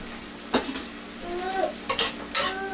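Vegetables and barbecue sauce being stirred in a frying pan over a steady sizzle, with a few distinct utensil scrapes and clinks standing out near the pan.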